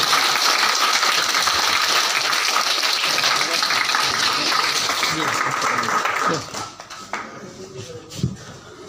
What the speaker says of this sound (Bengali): আমরা জোরে করতালি দিব